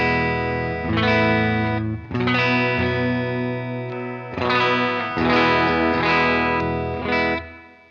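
An electric guitar plays a clean tone through a stereo patch of a Vox AC30 and a Fender Twin, with ringing chords struck a few times and left to sustain, close and full with light chorus shimmer.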